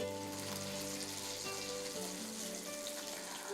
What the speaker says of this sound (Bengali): পাম ফল থেকে তেল এবং সেই তেলে মাছ ভাজা হচ্ছে